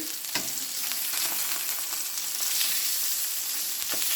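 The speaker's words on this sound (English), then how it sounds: "I have been cooking the salmon for about 5 minutes. So I'm going to flip this over." Salmon fillet sizzles in a pan, a dense, steady hiss with a few soft ticks and pops, close and unbroken, with nobody talking.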